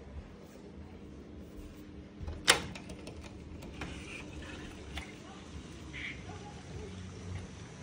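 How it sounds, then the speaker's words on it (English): Rain falls steadily as seen from a resort balcony in Bali, a continuous patter with scattered drips and one sharp nearby knock partway through. "this is the view from our balcony as the rain comes down."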